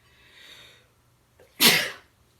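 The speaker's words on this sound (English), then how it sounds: "I'm going to sneeze." A single loud, close sneeze bursts out after a soft breathy inhale, set in a quiet room during a home yoga session, followed by silence.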